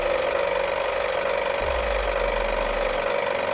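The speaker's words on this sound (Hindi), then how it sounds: "रोशन भी उसी रास्ते से अपने ट्रैक्टर पर आ रहा था।" Cartoon tractor engine in a Hindi animated story, a steady mechanical rattling drone that runs loud and continuous, with a deeper low rumble joining partway through.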